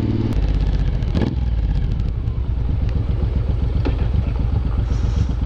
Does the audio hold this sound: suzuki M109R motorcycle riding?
yes